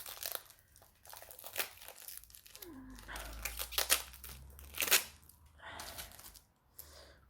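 Packing tape is peeled and torn with crackling rips as a cardboard box sealed with thick tape is opened, its crinkly bursts coming between quiet French speech.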